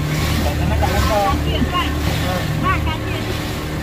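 Waves stirred up by a school boat wash and slap loudly on Lake Laut Tawar in Takengon, Central Aceh, with an engine rumble and wind buffeting, while people talk over it throughout.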